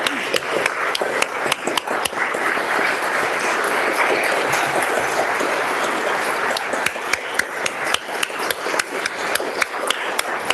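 Steady, sustained applause from a large group filling a legislative House chamber, with sharp individual claps standing out over a dense continuous patter.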